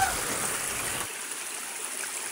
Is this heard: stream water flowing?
yes